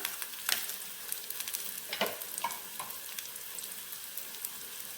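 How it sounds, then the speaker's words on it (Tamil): Green chillies hit hot oil in a pan while a fish curry is started, giving a steady close sizzle and frying crackle with a few sharper pops and stirring clicks, and no voices. "பச்சை மிளகா ஒன்று ரெண்டு உடச்சி போட்டுக்கிறேன்"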